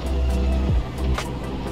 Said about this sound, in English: Maybe that was our engine that was so loud